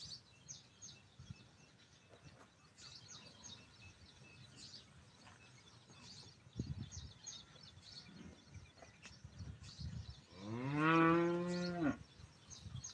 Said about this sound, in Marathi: इथं मस्त गाईचा हंबरड्याचा आवाज येत आहे.